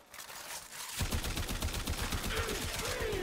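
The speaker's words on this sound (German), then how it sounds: "Ich finde die Geräusche von der Waffe auch ganz nett. Ist halt AK-like" An AX-52 assault rifle fires in Warframe in sustained rapid automatic bursts, loud and close, with sharp repeated cracks that start after a brief quieter moment.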